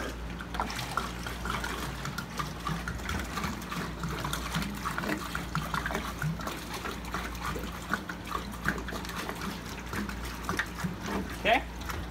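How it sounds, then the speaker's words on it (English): Water is poured into a bioactive paludarium terrarium, a soft trickling and splashing that runs throughout under a person talking. "So I'm gonna add in a little bit more water here."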